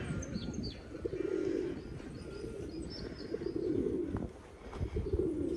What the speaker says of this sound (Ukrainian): які голуби жирні